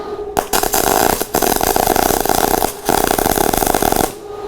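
MIG welding on quarter-inch steel plate with the wire set at 350 and 21.9 volts gives a loud, continuous crackling buzz. It runs in three long bursts broken by short pauses, and no one speaks over it.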